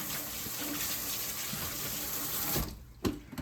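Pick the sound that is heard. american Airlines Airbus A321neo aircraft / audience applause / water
water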